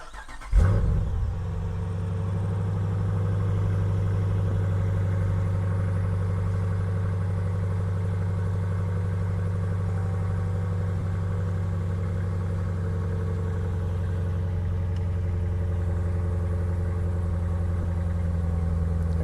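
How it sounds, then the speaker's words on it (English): A Dodge Durango RT starts with a brief crank and catch, then settles into a steady, low, even idle hum that runs on alone for a long stretch. "I'm going to power on the vehicle"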